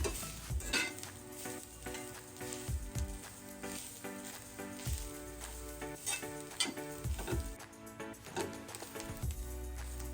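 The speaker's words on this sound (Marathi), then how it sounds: "ओलं खोबरं पण आहे ना आपण याच्यामध्ये चांगलं भाजून घ्यायचं" Freshly grated coconut roasting in a pan, with a continuous soft sizzle and occasional scraping strokes of a spoon stirring it, close but quiet, with no voices.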